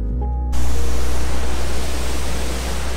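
A waterfall's steady roar fills the scene right after a brief tonal start, a loud, continuous wash of rushing water that holds even and close for the rest of the clip.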